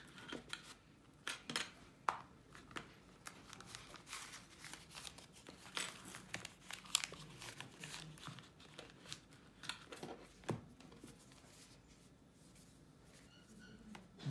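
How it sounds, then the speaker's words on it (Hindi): Cards being slid into the wallet slots of a mobile phone cover, heard as close, quiet crinkling, rubbing and plastic scuffs in uneven bursts over a long stretch without speech. "कार्ड्स इंसर्ट कर रहा हूँ अंदर"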